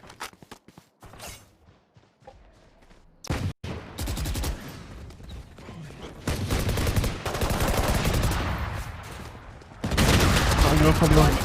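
Rapid bursts of gunfire from the video game Valorant during a competitive show match, with rattling automatic fire and sharp shots building in loudness under a caster's speech.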